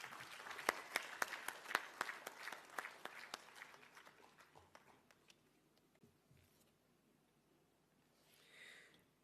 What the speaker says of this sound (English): They deserve a resounding applause.